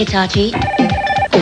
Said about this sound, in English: wait, that's my phone.